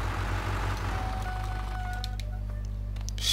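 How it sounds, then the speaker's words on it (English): Squeaky brake on a tractor in Farming Simulator 15, a thin, drawn-out squeal in a few rising tones over a steady low engine drone, with faint clicks. "Squeaky brake."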